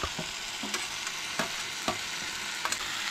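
A spoon stirs beans with onion and tomato in a pan, giving a steady sizzle broken by a few sharp scraping strokes.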